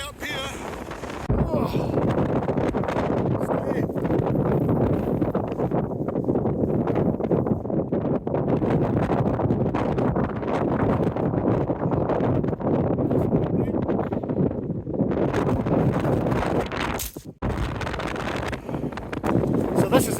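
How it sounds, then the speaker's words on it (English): Strong wind buffets the microphone on an exposed hilltop, roaring in loud continuous gusts with brief lulls, and a person briefly makes a sound partway through. "Yeah, nice and blowy up here."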